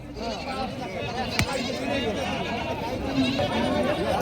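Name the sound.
goats bleating at a goat market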